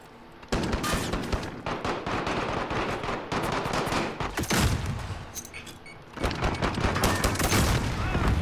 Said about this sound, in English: I got someone with the grenade.